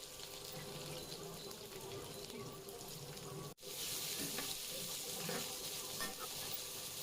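Onions sautéing in hot oil, a steady close sizzle and crackle that drops out for an instant midway, then resumes slightly brighter.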